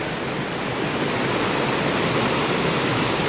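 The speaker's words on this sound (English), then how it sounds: "this is the main creek through this ravine here" A creek flows through a ravine at DeSoto Falls in Chattahoochee National Forest, north Georgia, giving a steady, dense rushing hiss of water, close and continuous, with no voices.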